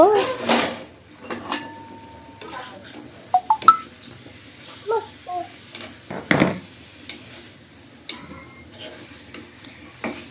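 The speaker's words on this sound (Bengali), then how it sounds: "এখন আমি ভালো করে মাছটা উলট পালট করে নিচ্ছি" Rohu fish pieces turned over in a pan while being cooked for a spiced fish curry, giving sparse clinks and scrapes of a utensil against the pan with quiet gaps between.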